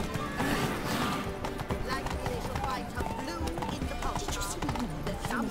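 Hoofbeats of the horse Roach clip-clop through the Witcher 3 game world, steady and mid-distance under a dense bed of game music and ambience, while characters talk over much of it.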